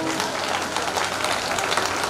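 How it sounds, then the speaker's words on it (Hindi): A crowd at a hospital inauguration ceremony claps loudly and continuously together, a dense, even wash of hands with no pauses. "एक बार आप जोरदार तालियां बजाएं,"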